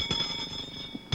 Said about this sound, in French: Vite, la sonnette d'alarme.